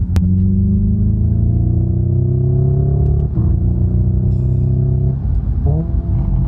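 A Ferrari engine accelerates with a loud, deep exhaust burble, its rumbling tone climbing steadily before easing and rising again, heard close up with no talking.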